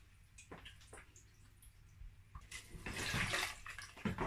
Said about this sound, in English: I'm going to be adding water.